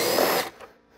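A power drill removes Torx screws from the front of a Ski-Doo Gen 4 snowmobile, whirring loudly for about half a second and then cutting off to quiet.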